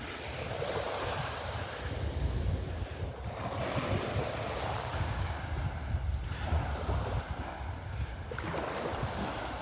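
Strong wind gusting across a beach in North Naples, Florida, a loud continuous roar and rumble against the microphone with surf mixed underneath.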